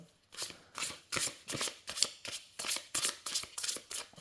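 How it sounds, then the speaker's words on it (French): Oracle cards shuffled by hand in a quick, even rhythm of about a dozen papery riffles, close and crisp, with no talking. "les cartes se mélangent très très bien"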